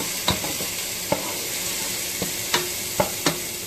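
Onions, garlic and cumin sizzle in a pan for home-style chili, a steady bright hiss broken by a few sharp clicks and scrapes of a spoon stirring against the pan.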